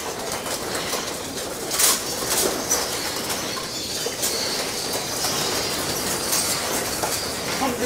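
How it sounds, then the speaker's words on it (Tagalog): Pigeons flutter and shuffle into their loft with soft wingbeats and faint cooing, mixed with steady background rumble and a brief louder burst of flapping. "papapasukin ko na to mga kalapati ko"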